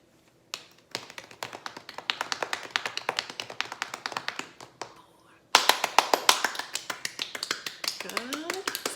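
Young children in a kindergarten-to-second-grade music class pat their hands to imitate rain. Dense, rapid, close tapping builds up and turns louder after a short pause, and a voice speaks briefly near the end.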